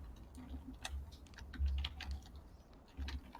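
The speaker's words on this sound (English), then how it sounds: "can hear you typing." Quiet, rapid clicking of a computer keyboard being typed on, with uneven bursts of keystrokes and short pauses, close by and fairly soft.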